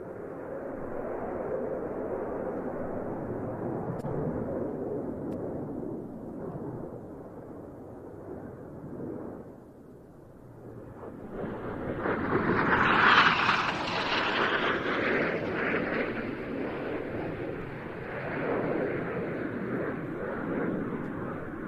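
Display aircraft at the RIAT 2024 airshow making a pass: a distant engine roar holds steady, dips, then swells louder and brighter as the jet sweeps by before easing off, with no voices over it.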